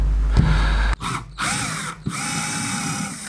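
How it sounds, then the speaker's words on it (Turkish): Loud whirring power drill with a countersink bit bursts into wood, stopping briefly twice between runs, with a grinding, rasping cut throughout. "Bu deliği de havşalı olarak deliyorum."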